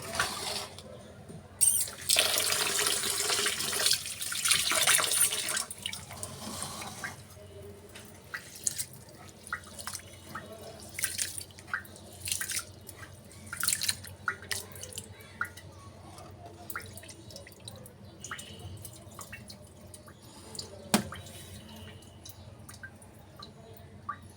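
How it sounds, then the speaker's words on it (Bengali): Rice and lentils are washed together in a bowl of water, with a burst of running tap water early on, then sparse drips, splashes and sloshing from hands stirring the grains, close and fairly quiet. "চাউল আর ডাউল একসাথে মিশিয়ে ধুয়ে নিব"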